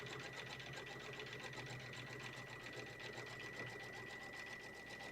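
A sewing machine quilting fabric borders runs steadily at high speed, a close, continuous rapid whirring stitch with no pauses.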